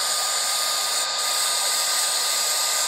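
A hair dryer blows steadily on airbrushed lettering on rayon fabric, a loud, close, continuous whooshing roar with no talk over it.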